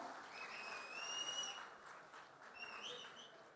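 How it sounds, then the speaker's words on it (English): Audience at an NIT Trichy global alumni meet gives a steady wash of applause, with shrill whistles rising over it at intervals and a few scattered cheers throughout. "I like how the whistles have already begun"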